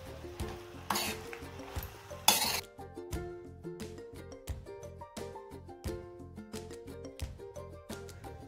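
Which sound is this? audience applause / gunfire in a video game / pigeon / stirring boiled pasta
stirring boiled pasta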